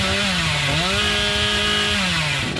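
A killer's chainsaw in the Dead by Daylight video game revs loudly and steadily, its engine pitch dipping and then rising again, with a gritty continuous drone that carries through the whole stretch.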